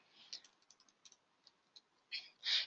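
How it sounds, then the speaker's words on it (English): Keypresses entering a PIN on a device, a string of light, quick taps of uneven rhythm, close and quiet, ending in a couple of louder clustered presses. "So I type in my PIN number"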